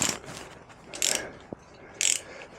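A ratchet works loose the exhaust bolts on a Kawasaki Z900RS in short, crisp clicking bursts, three quick runs of pawl clicks with brief pauses and a small knock between, close and fairly quiet.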